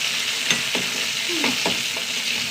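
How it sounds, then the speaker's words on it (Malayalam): Curry leaves, six or seven of them, frying in hot oil for a fish-free curry, with a steady bright sizzle and a few soft stirring scrapes close by. "കുറച്ച് കറിവേപ്പില നന്നായി മൂത്ത് വെക്കാം"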